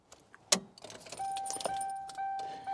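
Car keys jangle and turn in the ignition of a Ford Crown Victoria, a sharp metallic jingle followed by steady electronic chimes from the dashboard as the ignition is left on, close and clear with no talking.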